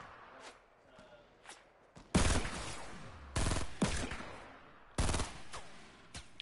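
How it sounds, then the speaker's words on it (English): Semi-automatic gunfire in the Fortnite video game, several sharp separate shots spaced a second or so apart, loud against quieter background game sounds and faint ticks. "I think it's a semi-auto."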